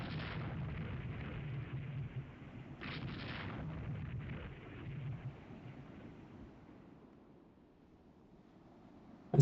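Naval gunfire from ships in the strategy game Rule the Waves 3, a run of heavy, low rumbling booms that rolls on for several seconds, fades, and ends on one sharp burst.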